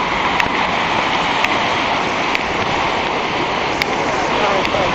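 A stream flows on a Jamaican nature walk with a steady, full rushing wash of water, close and continuous, with a few faint clicks and no clear voices.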